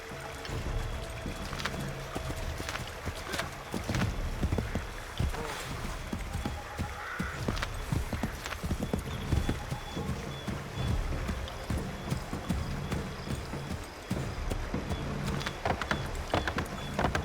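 Horse hooves clip-clopping in a rapid, steady rhythm as a rider travels at night in Assassin's Creed 3, continuous and fairly close over the ambient game sounds.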